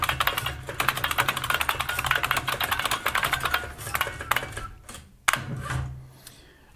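Rapid, steady keystrokes on an IBM 6780 Quietwriter electronic typewriter clatter close by in a dense run, thinning out toward the end with a single sharper clack and a soft mechanical whir.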